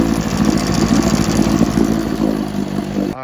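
A 1968 Johnson 9.5 HP outboard motor running steadily after a fuel line repair, a loud close-up clattering engine drone with even rhythm until it cuts off at the end.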